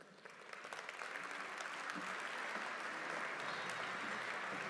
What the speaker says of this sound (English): one more big round of applause and a photo opportunity